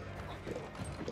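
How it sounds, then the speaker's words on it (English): Horsemen galloping across the battlefield in Age of Empires 4, a soft, quick clip-clop of hooves heard faintly amid muffled game ambience. "Horsemen try to get a swing on those villagers."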